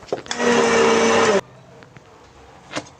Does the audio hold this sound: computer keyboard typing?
no